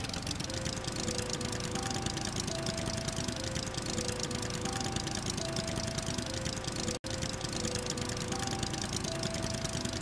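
A raft motor in the survival game Stranded Deep runs as a steady, continuous mid-pitched engine drone with a faint buzzing hum, unbroken except for a split-second dropout near the end, with no talk over it.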